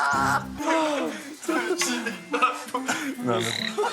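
People imitate toad croaks with their voices, a run of throaty, rasping croaks mixed with chuckles and snickers from a small group, close and fairly loud over about four seconds.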